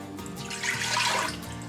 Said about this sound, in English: First we're going to add some water.